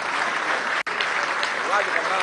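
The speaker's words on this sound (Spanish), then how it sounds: "aplauso para Yurami" Dense applause from an audience at a PSUV committee swearing-in ceremony, loud and steady throughout, broken by a single sharp thump.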